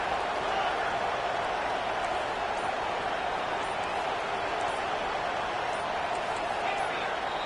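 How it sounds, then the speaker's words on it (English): Stadium crowd noise from a College Football 25 game, a steady broad roar of cheering that holds evenly at full level throughout, with no clear breaks or individual voices standing out. "the crowd really making some noise now, trying to help out this defense to get this stop near the goal line"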